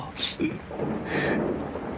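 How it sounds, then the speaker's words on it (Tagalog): Rain growing heavier over an empty cemetery, a steady broadband hiss with brief brighter surges of downpour, fairly close and continuous. "lumalakas na din po ang ulan"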